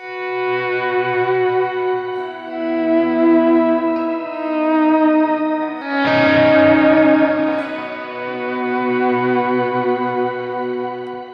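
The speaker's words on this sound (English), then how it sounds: "that octoverb really comes in nicely there. You can use it for swells," Electric guitar through a Line 6 Helix patch plays slow volume swells washed in octoverb, shimmering octave-up reverb and echo, with sustained chords blooming and fading and a brighter swell surging in midway, no voices.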